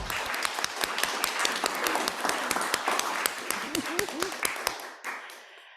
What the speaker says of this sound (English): and I'd like to applaud him.